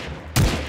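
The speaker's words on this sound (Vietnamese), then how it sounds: "Lấy súng ra xả luôn" A short, loud burst of gunfire in a Minecraft GTA 5 video game erupts suddenly after a quiet moment, a sharp blast tailing into a brief rumble.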